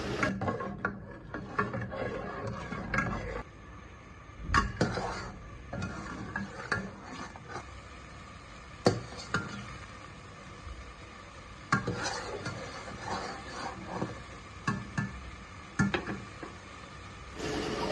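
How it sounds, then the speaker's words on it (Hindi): Spoon or utensil scraping and clinking in a bowl as chicken is mixed with salt, black pepper, chicken powder and chilli, quiet intermittent stirring and knocks with a few sharper taps, no speech. "इसको फिर मिक्स करेंगे"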